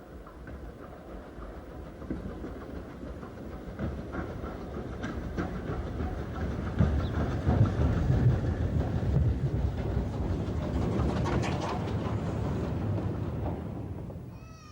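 Steam locomotive 76017, a BR Mogul built at Horwich in 1952, running on the Mid-Hants Railway: a steady rumbling, clanking train passage that swells louder mid-way and holds, heard without speech.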